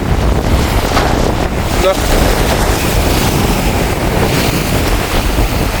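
Rough storm sea waves crashing on the coast at Keerimalai, a loud continuous roar of surf mixed with heavy wind buffeting the microphone, with brief voices under the noise.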